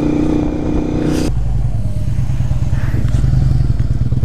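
A Harley motorcycle with a loud exhaust rumbles close by, a deep throbbing idle and roll-on revving that stays steady and prominent throughout, with no talk over it.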